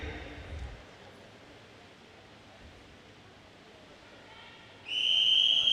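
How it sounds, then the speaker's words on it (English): A starting whistle blown by the official at a British para-swimming international meet, a sustained bright tone starting near the end and held loud over the steady hum of a large indoor pool hall. "we're just waiting for the official's whistle coming at the start end"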